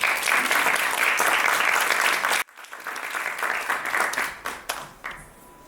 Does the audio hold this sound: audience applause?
yes